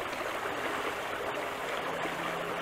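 A creek of the Iłownica flows where two streams meet, a steady, close, full rush of running water with no other sounds.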